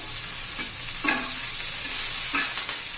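Chopped capsicum and tomato stir-fried in hot oil for a restaurant-style egg chilli fry: a constant close sizzle with a few soft spatula scrapes, no voices.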